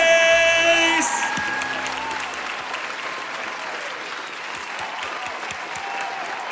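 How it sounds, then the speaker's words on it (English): Audience applause at a Welsh talent show as a performer is called to the front, a dense crowd clapping steadily after music fades out at the start, sustained and even. "Can we please have the best of all, and a round of applause up to the front for Grace?"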